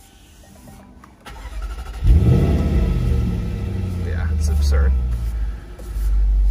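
A 2020 Jaguar F-Pace SVR with the exhaust set to open fires up with a sudden loud roar, then settles into a deep rumbling idle that swells again with a rev. A voice speaks briefly before the start.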